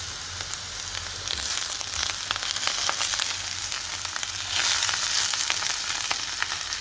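Oyster mushrooms and onions fry in a pan, a continuous close crackling sizzle with dense popping that grows slightly louder partway through, with no talking.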